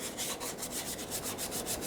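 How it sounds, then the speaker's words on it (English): Emery cloth on a flat sanding block rubs across a metal surface during a 2006-2012 Toyota RAV4 water pump replacement, in quick, even back-and-forth strokes, each a close, dry rasping swish. "with a nice flat sanding block, I put a nice sheet of emery cloth on there, and I'm going to clean the surface up"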